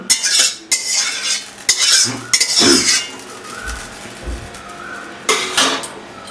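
A metal wok and pots are handled in a home kitchen while cooking, with irregular sharp clanks, scrapes and stirring clinks, some loud and close, separated by quieter gaps.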